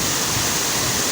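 Rushing water of the Chenku waterfall near Dodowa, Ghana, a loud, steady broadband roar heard close up with no voices.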